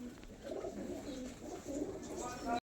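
Malwai pigeons cooing in a loft, soft low repeated coos in close, overlapping phrases with faint background murmur.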